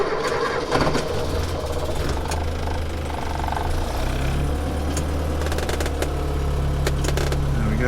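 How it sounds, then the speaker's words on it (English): A 1954 Morris Minor with its 803 engine and the choke pulled cranks after sitting unused for several days, then catches and settles into a loud, steady, close idle with a rough, knocking edge. "So let's have a little bit of choke, because as I say, it hasn't been started for a good few days."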